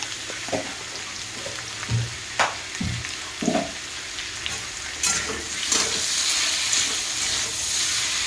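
Lentils with salt and turmeric fry in a pan, a steady low sizzle broken by several distinct scraping stirs of a spoon, growing slightly louder toward the end.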